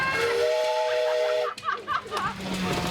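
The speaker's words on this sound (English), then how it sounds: "ask them if they'd like to blow the steam whistle" An antique steam whistle blows with a loud, sustained harmonic tone for about a second and a half, then cuts off into hissing steam and brief chuffing sounds near an old engine.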